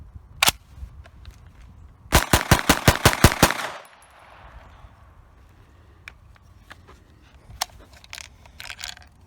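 A PTR 9KT, an MP5K-style pistol, fires a quick burst of about nine sharp, loud shots, with one earlier shot alone, then quiet handling noises and a few faint clicks.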